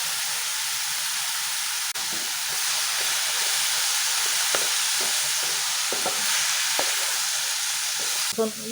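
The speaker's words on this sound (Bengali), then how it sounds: "গাজরটা ভাজা হয়ে গেছে" Grated carrots for carrot halwa frying in a pan, a continuous bright sizzle close by with occasional scraping stirs and clicks, no talk over it.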